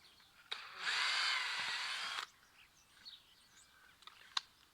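A power drill whirs briefly for just over a second, boring a pilot hole for a fixing, then stops, leaving faint ambient sounds and a sharp tap.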